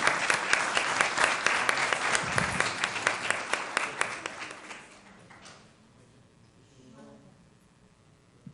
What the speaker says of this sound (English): we'll give one more round of applause for making it a night to remember